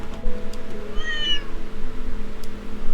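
A cat gives one clear, fairly close meow, a short rising-and-falling cry, over a low steady background hum in an indoor setting.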